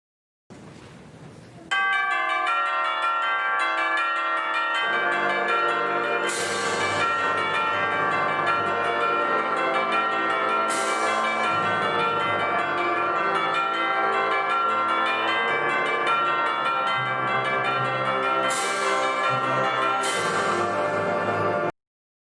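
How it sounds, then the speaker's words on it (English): Tubular bell chimes ring out in a slow sequence of resonant, bright strikes with long sustaining overtones, several notes layered as they decay. "So the chimes right there, those tubular bells"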